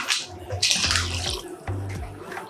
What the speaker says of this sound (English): And Rye's gonna get me half a cup of water, half a can of water